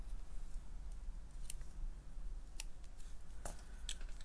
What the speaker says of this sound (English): I'll just snip that off.